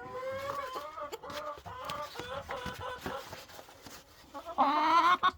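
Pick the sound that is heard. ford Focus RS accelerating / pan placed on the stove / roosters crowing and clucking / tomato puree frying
roosters crowing and clucking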